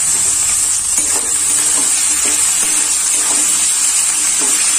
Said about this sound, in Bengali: এবার ক্যাপসিকাম গুলো দিয়ে দিচ্ছি।